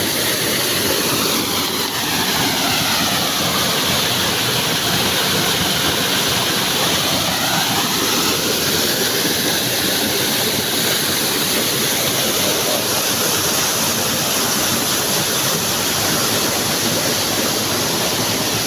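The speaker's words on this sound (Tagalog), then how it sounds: "Ang sarap po dyan tumapat sa pumapatak na tubig na yan." Water falls and drips inside a cave at Magibway Falls, a loud, steady broadband rush that roars without pause throughout, with no voices over it.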